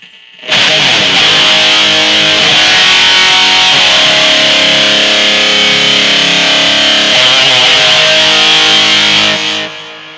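A sustained, heavily distorted electric guitar chord in a 70s style rings out loud and wide, with a washy plate reverb tail as it fades.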